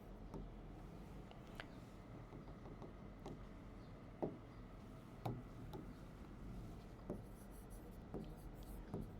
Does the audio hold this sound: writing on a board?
yes